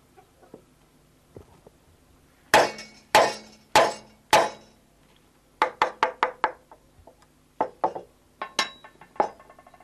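In Romanian folk woodcraft, a wooden mallet strikes wood in sharp, close knocks: four heavy blows in slow succession, then a faster run of lighter taps and a few more spaced hits.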